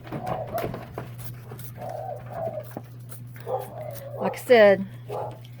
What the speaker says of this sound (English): that's my dogs being loud. Dinner time loud.